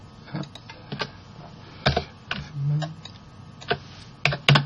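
Space bar on a computer keyboard pressed repeatedly during 3D modelling work, giving sharp, close clicks and taps scattered irregularly, with a low hum and faint background sounds between presses.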